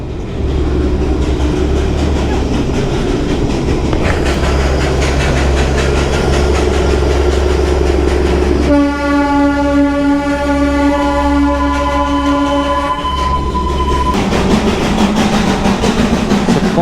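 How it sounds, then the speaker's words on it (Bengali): A coal-fired steam train on the Darjeeling hill line rumbles past close by, sounding a long, loud, sustained horn blast partway through over the steady rolling clatter. "কয়লা দিয়ে হচ্ছে ট্রেনটা চলে।"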